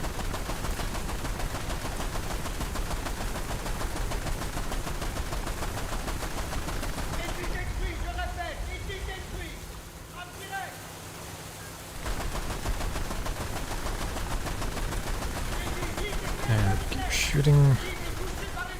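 Naval gunfire in a boat combat game along the French coast, a continuous rattling barrage of rapid shots under engine and water noise, with someone talking over it and a louder burst near the end.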